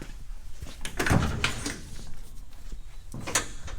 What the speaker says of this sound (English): Open that door up.